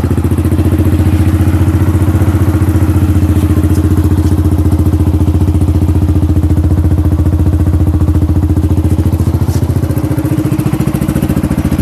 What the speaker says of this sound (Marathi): या आफ्टर मार्केट एक्झॉस्टचा आवाज तुम्ही ऐकू शकता